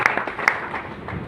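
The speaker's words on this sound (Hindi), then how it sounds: "एक बार जोरदार तालियां हो जाए।" An audience at a business presentation in India breaks into brief applause, a short scatter of claps with a few sharper individual hits.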